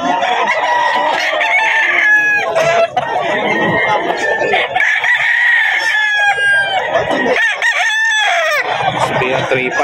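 Roosters crow loudly and close, several drawn-out calls overlapping with clucking fowl in the background.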